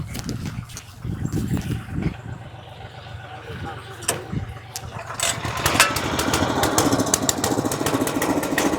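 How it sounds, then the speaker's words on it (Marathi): A tractor engine runs steadily with a low, rumbling idle, close by and fairly loud. Wind buffets and handling noises mix with it, and the rumble grows busier and louder toward the end. "तो ट्रॅक्टर आलाय, आपला ट्रॅक्टर बाजूला घे, पटकन घे"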